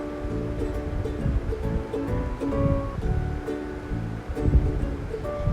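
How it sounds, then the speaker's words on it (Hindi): Water is poured into a pan of chicken being fried over high heat, raising a loud, close, steady hiss and sizzle with bursts of bubbling. "अब इसके बाद हम इसके अंदर तकरीबन 2 गिलास पानी शामिल करेंगे।"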